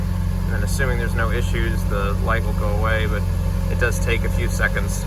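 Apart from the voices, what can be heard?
2013 Ferrari California engine cold start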